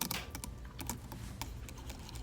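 A computer keyboard being handled and swabbed for samples gives off a run of quiet, irregular clicks and taps, keys rattling faintly at close range with no talk.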